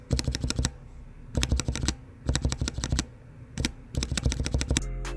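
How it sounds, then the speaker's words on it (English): Typing on Cherry MX Black linear keyboard switches: fast bursts of crisp keystrokes in four or five quick runs, close and fairly loud, with short pauses between runs. "Then you have the Cherry MX Black, which is also a linear switch, but it has a heavy key feeling and it also has a quiet sound."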